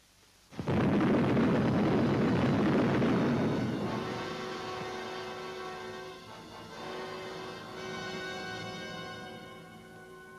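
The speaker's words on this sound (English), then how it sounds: "awaited the setting off of their first atomic bomb" The first atomic bomb detonation at the Trinity test, July 1945: a sudden loud blast followed by a long roaring rumble that slowly fades, with a sustained tonal drone persisting beneath.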